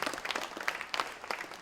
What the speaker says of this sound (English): Please, a round of applause to the hosting school